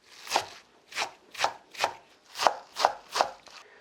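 A knife mincing tough garlic chives on a cutting board: seven crisp, evenly spaced chops heard close up and alone, with no talking.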